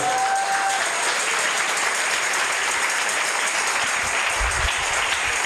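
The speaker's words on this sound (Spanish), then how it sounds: "Denle un aplauso al Señor de los cielos" Church audience applauding steadily throughout, a dense, close wash of clapping with a brief sustained tone at the start and no speech.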